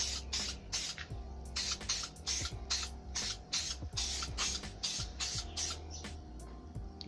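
Spray gun laying grey coating onto a vehicle hood, heard as repeated short hissing bursts in a steady trigger rhythm over a low shop hum, close and fairly loud with no talking.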